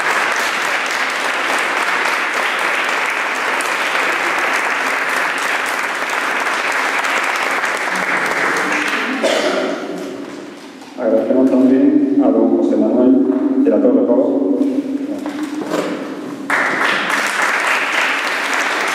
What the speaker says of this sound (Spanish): si me permitís el aplauso, se lo dedicamos a la hermandad